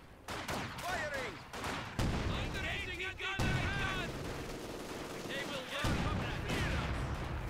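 Company of Heroes 2 battle gunfire, with rapid rifle and machine-gun bursts crackling almost without pause. Voices and shouted unit callouts run through the volley.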